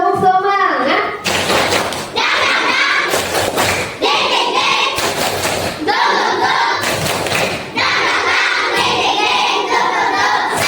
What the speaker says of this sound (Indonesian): sebelumnya kita tepuk semangat dulu ya